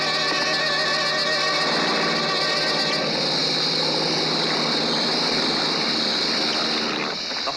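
A low-flying stunt plane approaching over open ground to tackle a rider on a running horse, its propeller engine droning loudly and steadily throughout, rising in pitch partway through as it nears.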